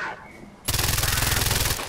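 Rapid automatic gunfire in the video game Far Cry 4 erupts suddenly after a quieter moment, a loud sustained burst of evenly spaced shots that runs for over a second.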